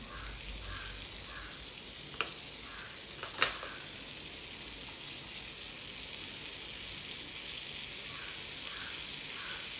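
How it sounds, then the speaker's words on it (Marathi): A big spoonful of butter melts in a pan for a chole masala tadka, giving a steady, soft sizzling hiss nearby, broken by two sharp clicks of utensils. "एक मोठा चमचा बटर विरघळून घेणार आहे"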